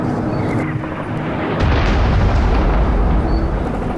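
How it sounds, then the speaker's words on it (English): Artillery rounds landing and exploding near a UN observer post at Khiam, Lebanon, a deep rumbling boom swelling midway and rolling on, loud and dense, with no voices. "16 artillery rounds that have landed."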